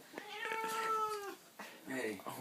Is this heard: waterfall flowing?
no